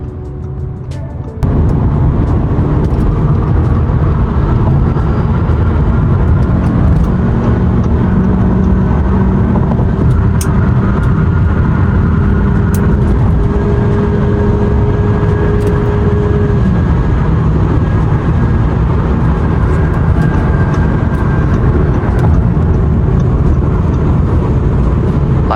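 An Audi A6 driven hard, its engine and road roar filling the cabin with a loud, continuous drone that rises in pitch as it accelerates and then holds steady, heard from inside the car with no talking.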